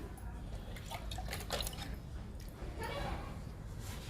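Quiet, continuous trickling and dripping of water poured gently onto potted plants in cocopeat, with soft splashy bursts throughout.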